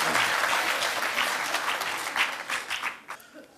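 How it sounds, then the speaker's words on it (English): A crowd at a Cape Town community eisteddfod claps for three participants leaving the stage, loud at first and then tapering off into scattered claps. "give our three participants a huge round of applause as they make their way off the stage"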